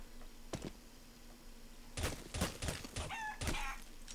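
Chicken clucks from the Counter-Strike Inferno map mixed with sharp game thumps, a few short bursts near and fairly loud over a low steady hum, no talking.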